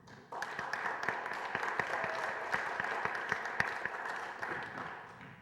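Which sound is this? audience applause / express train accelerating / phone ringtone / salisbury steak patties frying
audience applause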